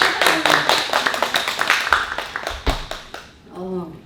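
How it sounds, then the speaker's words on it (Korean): An audience claps at an independent bookstore book concert with a brisk, dense patter of hand claps for about three seconds, then a voice speaks briefly as the clapping fades. "박수 한번."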